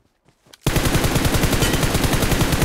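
Rapid automatic gunfire from a shooting video game bursts in loud and sustained after a near-silent opening with a few faint clicks, the shots rattling on in a dense continuous stream.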